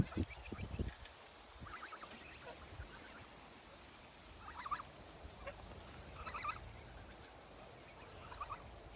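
Domestic geese feeding on bought feed, giving soft scattered honks and calls over a constant low rustle of pecking and eating, fairly faint and steady throughout.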